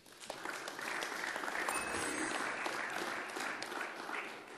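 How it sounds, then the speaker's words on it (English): An arena crowd gives sustained applause for the 2012 USA men's Olympic basketball team, a broad, even roar of clapping heard from some distance. "a round of applause for your 2012 USA Men's National Team"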